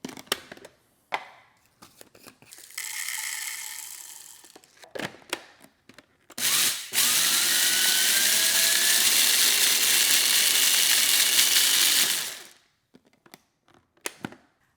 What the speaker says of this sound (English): So let's grind some peppercorns and see how well this works.